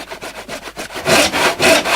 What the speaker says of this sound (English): you just need a handsaw. Will do the job quite easily.